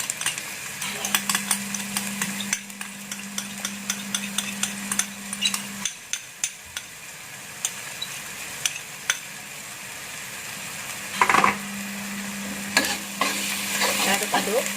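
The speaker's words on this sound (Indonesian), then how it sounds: "Saya aduk sampai bawang putihnya harum." Garlic and sauce for honey grilled shrimp sizzle in a frying pan while a utensil stirs and scrapes against the metal in quick, irregular clinks. The frying hiss stays close and continuous, with a steady hum running beneath it.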